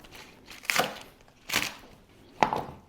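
A knife chops carrots, green onions and celery on a board in three distinct, moderately loud strikes spaced about a second apart, with quiet pauses between.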